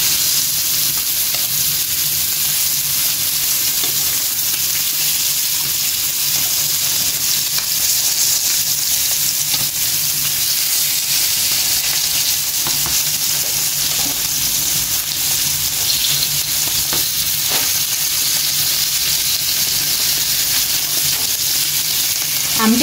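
Fish fries in a pan with a loud, steady, close-up sizzle and hiss that holds evenly throughout, with occasional faint stirring clicks and no speech.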